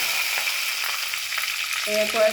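Curry leaves crackle and fry in hot oil for a coconut-ground sardine curry, a steady close sizzle with small pops and a brief clink near the end.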